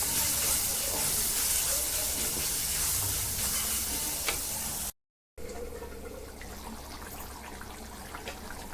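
Chilli powder and coriander powder masala is sautéed for a Sunday home-cooked chicken dish, producing a steady hissing sizzle with a faint stir. A brief gap of silence falls partway through before a softer, bubbling simmer continues.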